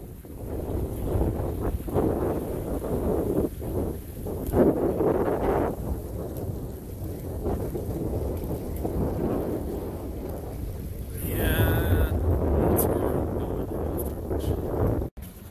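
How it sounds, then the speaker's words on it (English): Strong gusts of wind buffet the microphone at a lunch spot beside rapids upstream of Moberly Lake on the Yellowknife River system, a steady loud roar with a brief brighter rush near the end. "Some pretty strong gusts of wind coming up right here."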